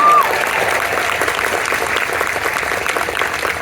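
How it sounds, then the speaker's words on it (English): A large commencement audience at Caltech's 2024 graduation applauds in a loud, dense, continuous wash of clapping that runs steadily throughout. "maybe you could just applaud"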